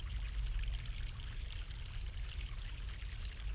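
Fresh mountain water flows in a steady stream in The Longest Journey, a continuous splashing rush that stays fairly even and moderately quiet throughout, with no voices over it.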